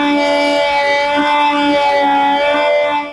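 Flood warning sirens wail steadily beside the Ravi river at Ferozwala, a loud, sustained, unwavering tone with layered pitches filling the whole stretch alone, with no talking.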